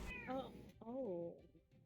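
A cat gives two drawn-out meows in quick succession, close and fairly clear over faint background noise.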